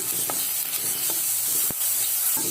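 Onion and garlic sautéing in a pan for crab soup, with a steady broadband sizzle and a few sharp stirring scrapes and taps against the pan.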